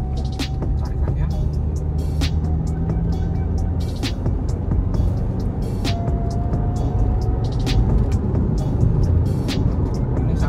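A car with a tiptronic transmission pulls hard through its gears, a steady engine drone with rising tones, heard from inside the cabin with a voice talking over it.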